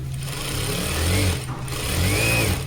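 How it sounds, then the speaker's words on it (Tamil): A sewing machine runs steadily after an oil change, stitching with a smooth, loud mechanical whir and hum that swells slightly in speed, close up and without talk. "மிஷினோட ஆயில் மாற்றியாச்சு இப்போ நம்ம தச்சு பார்க்கலாம் வாங்க"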